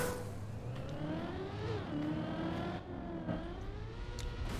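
A Trackmania race car engine howls steadily and close, its revs climbing, dipping and surging again through gear-like shifts with no talk over it.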